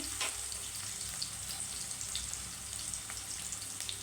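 Onions sprinkled with a little salt fry in a pan for a cabbage curry, giving a steady close sizzle with faint crackles and occasional stirring scrapes.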